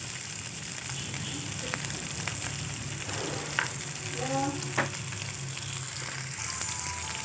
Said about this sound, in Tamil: உளுந்து இப்போ தான் நமக்கு நல்லா கோல்டன் ப்ரௌனாக வறுபட்டு வருது